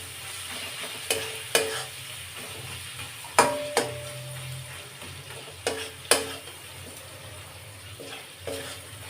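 Ginger and garlic frying in a pan, a low steady sizzle broken by a handful of sharp spatula scrapes and knocks against the pan at irregular intervals, no speech.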